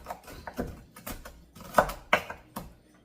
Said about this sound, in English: I could probably break the bacon up with my hands, but I already got my knife out. I'm already chopping